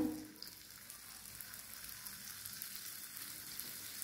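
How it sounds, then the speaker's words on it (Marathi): Karanji pastries frying in hot oil in a kadhai over low heat, a faint, even sizzle and gentle bubbling heard alone at low volume. "आपलं तेल तापलेलं आहे, आपण बनवलेले करंज्या त्यात टाकूया"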